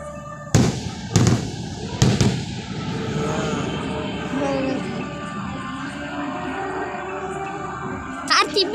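Fireworks and firecrackers go off in three sharp, loud bangs, followed by a steady crackling roar and a few quick pops at the end, with voices in the background.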